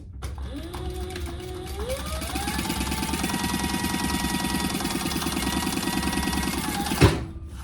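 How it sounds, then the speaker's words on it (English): A sewing machine topstitches the fold lines of card slots on a Delmar wristlet, a steady rapid needle chatter with a motor whine that ramps up in pitch early on, running close and continuous before a sharp click as it stops. "I'm gonna top stitch this last one, the fold lines"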